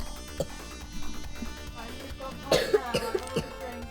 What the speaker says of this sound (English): Why is everyone developing coughs for Christmas Day?